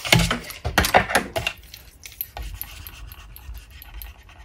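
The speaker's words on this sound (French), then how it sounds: "on va venir effacer nos petits repères, nos lignes." An eraser rubs briskly over paper to remove pencil guide lines on a flower-pocket craft, several loud close scrubbing strokes that give way to softer, sparse rubbing.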